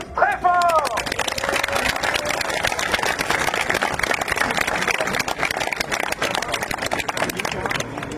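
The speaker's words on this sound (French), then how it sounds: "on les applaudit tous très fort" Crowd applause at a car tuning show, a dense, steady wash of clapping and cheering lasting several seconds, with voices mixed in throughout.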